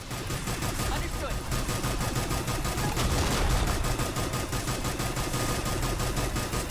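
Sustained rapid gunfire in Mass Effect 3, dense overlapping bursts of automatic weapons and shots continuing steadily throughout at a loud, even level.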